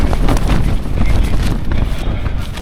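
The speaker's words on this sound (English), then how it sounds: "And I need it in this bloody noise with wind." Strong wind gusts buffet a tent on a Peak District hillside, a continuous loud rumbling roar with flapping surges that rises and falls without letting up.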